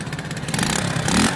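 A motorcycle damaged in a crash revs loud and close, its engine note rough and clattering, rising in a short sustained burst.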